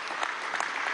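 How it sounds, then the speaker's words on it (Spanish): Audience applause at a Venezuelan government production event, dense steady clapping from a crowd throughout, fairly even with small swells. "un aplauso"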